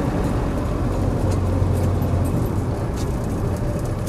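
An ex-military Land Rover 90 with a 200tdi diesel engine cruising in fifth gear, a steady low engine drone and road rumble held at an even level throughout, with no talking.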